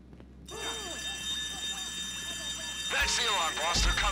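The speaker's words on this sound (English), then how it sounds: "That's the alarm, boss." An alarm sounds during a heist at the Kortz Center in GTA 5 Online, a steady electronic ringing tone over game music, with a burst of louder chirping tones near the end.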